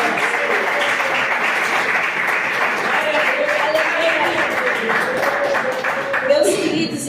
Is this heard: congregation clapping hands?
yes